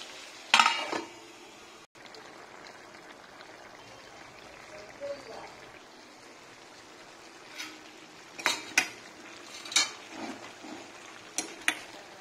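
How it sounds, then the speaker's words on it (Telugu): Chicken stirred into a pan with onion and tomato pieces for a gravy chicken curry, heard as scattered metallic clinks and scrapes of utensil on pan, with a lid clattering on near the end. "ఇప్పుడు ఇందులో చికెన్ వేసేసుకొని బాగా కలిపి మూత పెట్టాలి"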